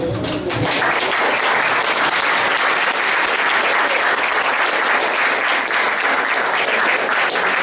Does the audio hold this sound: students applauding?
yes